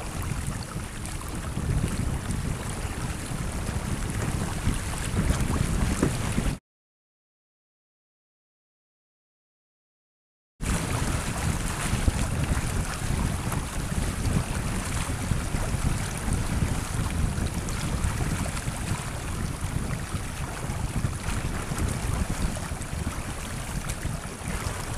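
Sailboat turning into the wind, with steady wind buffeting the microphone and water rushing past the hull, loud and continuous apart from a few seconds of dropout, no talk.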